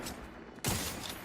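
Gunfire in The Outer Worlds 2 against Crabbles, a quiet stretch broken by a sudden burst of rapid shots that keeps rattling on at a low overall level.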